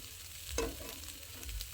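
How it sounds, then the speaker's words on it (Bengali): An egg frying in a pan while egg pasta is being made at home gives a soft, close sizzle, with a couple of brief stirring scrapes across the pan. "ডিমটা একটু ভাজা ভাজা হয়ে আসছে"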